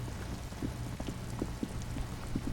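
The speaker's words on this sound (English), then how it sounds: "Rain drips from the eaves and floods the gutters" Steady rain falls in the city of Revachol in the game Disco Elysium, a continuous wash of drizzle with scattered drips and taps pattering on surfaces, fairly close and with no talk over it.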